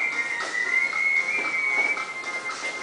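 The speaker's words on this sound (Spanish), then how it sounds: "silbando, ven silba." A person whistles one sustained, fairly high, steady tone with slight wavering, loud and close, alone for nearly three seconds during a film scene rehearsal.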